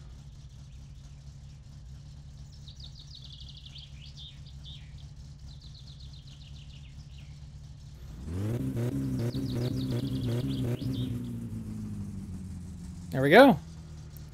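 A car engine in the My Summer Car video game idles steadily after carburetor tuning, a low constant drone that rises and fills out about midway, with a brief sharp rev-like sweep near the end and a voice speaking briefly.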